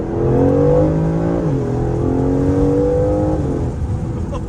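Aston Martin Vantage fitted with an aftermarket exhaust, heard from inside the car with a window cracked, its engine droning steadily under load with rising and falling pitch as it shifts and accelerates, loud and continuous with no talk.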